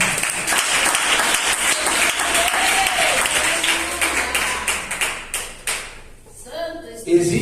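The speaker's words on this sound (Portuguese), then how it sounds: "Glorifica o Senhor com palmas." A church congregation claps their hands in praise, a dense continuous round of clapping with voices mixed in, thinning into scattered claps toward the end.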